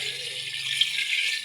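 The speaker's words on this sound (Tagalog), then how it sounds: "Lagyan natin ng tubig." Water poured into a cooking pot of duck tinola in a rural Philippine kitchen, heard as a short, steady rushing hiss of liquid streaming in, close and fairly loud without pause.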